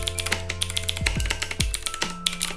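A Razer BlackWidow-style mechanical keyboard with a metal base being typed on, crisp clicky keystrokes in an irregular rapid rhythm, close and clear, with a low humming tone underneath.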